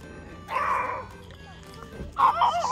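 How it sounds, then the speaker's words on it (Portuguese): A pet dog barks in two short bursts from a nearby room, fairly loud, with voices of people speaking around it. "o Simba vai ficar latindo"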